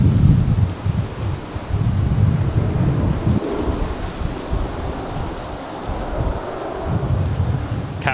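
Strong wind gusts buffet the microphone at Brisbane Airport, a rough, continuous roar that swells and eases in uneven surges, with no voices present.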